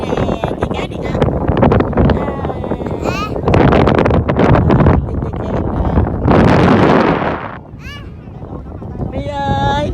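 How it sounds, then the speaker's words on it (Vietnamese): Strong wind buffets the microphone on the pink sand dunes near Phan Thiet, loud roaring gusts that rise and fall, with people talking through it. "gió quá"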